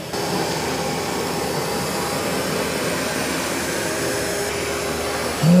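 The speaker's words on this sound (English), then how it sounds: "You know, it's doing a pretty good job vacuuming." A Narwal Freo X Ultra robot vacuum runs in vacuum-only mode on a floor, giving a steady, moderately loud whirring hum that stays even throughout.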